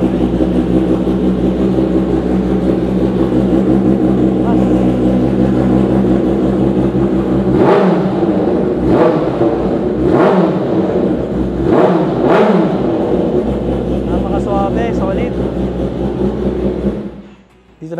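A motorcycle fitted with an SC Project aftermarket exhaust idles loudly up close, then is revved in several sharp blips that rise and fall, before settling back to a steady idle and cutting off near the end.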